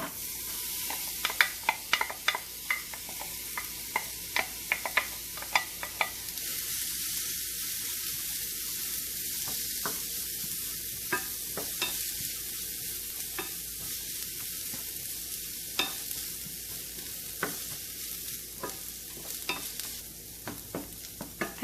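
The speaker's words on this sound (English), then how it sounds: "Once the oil is hot, I am going to add onion and green chilies." Chopped onion and green chilies sizzle in hot oil, a continuous close hiss punctuated by frequent crisp pops and clicks throughout.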